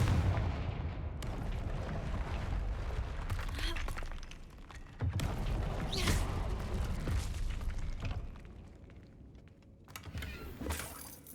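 In Hogwarts Legacy, a Confringo fire spell produces booming, blast-like explosion bursts with crackling debris, loud bursts separated by brief quieter gaps.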